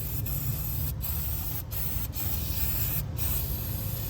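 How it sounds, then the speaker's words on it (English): An aerosol can of brake parts cleaner sprays in a continuous loud hiss, close up, broken by a few very brief pauses as the nozzle is let off and pressed again. "Got some brake parts cleaner. I'm just gonna spray the old dye off so I know if it's leaking again."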